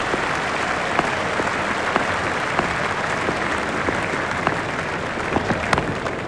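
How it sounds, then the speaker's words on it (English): Steady, dense applause and cheering from a large cricket stadium crowd in a cricket video game, a continuous broadband wash of clapping with occasional sharper claps standing out, loud and filling the whole stretch with no commentary over it. "There's a lively crowd inside"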